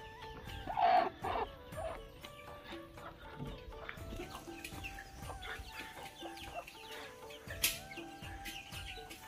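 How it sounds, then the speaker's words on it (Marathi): Domestic chickens cluck at a home in a Goa setting, a loud burst near the start followed by scattered softer clucks and chirps over steady background noise, with no talk. "मंदारच्या घरची कोंबडी उचलली"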